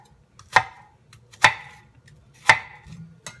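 A kitchen knife chops through red onion on a cutting board while fish tacos with spicy slaw are prepared. Three sharp, loud chops land about a second apart, with a faint fourth tap near the end and no talking.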